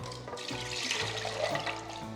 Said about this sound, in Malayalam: നന്നായിട്ട് വെള്ളം ഒഴിച്ച്